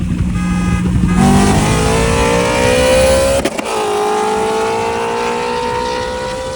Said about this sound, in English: he has a full exhaust, which sounds nice